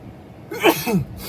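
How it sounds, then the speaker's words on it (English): A single close, loud sneeze: a short inhaled build-up followed by a sharp burst. "I'm about to sneeze."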